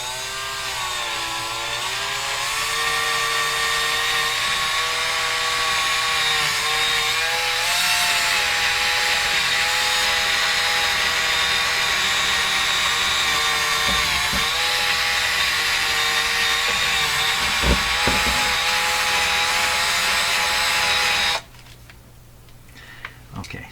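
Power tool grinding and reshaping the rubber-rimmed wheel of a Telefunken TW501 record changer, a steady loud whining hum with wavering pitch for about twenty seconds before cutting off abruptly, leaving quiet handling noise.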